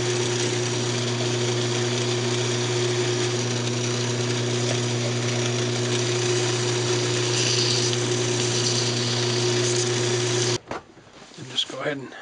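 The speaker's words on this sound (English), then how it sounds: "just go ahead and turn the lathe speed back up, polish it up" A wood lathe spins at speed for polishing a turned mushroom box, giving a steady close motor hum and whir that runs for about ten seconds before stopping abruptly, followed by faint handling noise.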